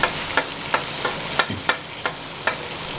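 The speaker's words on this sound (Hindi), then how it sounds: "टमाटर फ्राई हो चुके हैं" Tomatoes and red chili frying in a pan while a utensil stirs them: steady sizzle throughout, broken by about eight sharp, evenly spaced scraping strokes close up.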